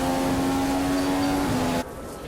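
Steady rain hiss from a wet race in the F1 2015 racing game, mixed under a droning car engine tone, cutting off abruptly to a quieter hush near the end.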